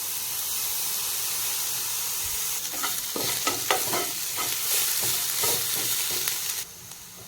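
Ginger and garlic paste sizzles and fries in a pan, a steady hiss with bursts of crackling and stirring scrapes in the middle before it settles quieter.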